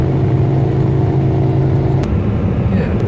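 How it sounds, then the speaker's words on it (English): A three-wheeled motor tricycle passes on a road in Alabama with a loud, close, steady engine drone that shifts partway through as it goes by, alone without voices. "that is a motor tricycle"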